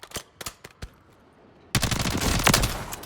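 Assault rifle fire on a Warzone video game firing range: a few spaced single shots, a pause, then a loud sustained automatic burst, close and sharp.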